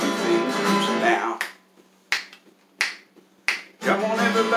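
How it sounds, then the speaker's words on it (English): Three sharp, loud finger snaps spaced about two-thirds of a second apart, set between stretches of singing in a 1963 rock-and-roll song. "Everybody in, snap your fingers now."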